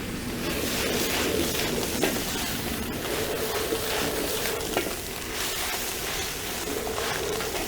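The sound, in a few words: stir-frying pea shoots with minced garlic in a wok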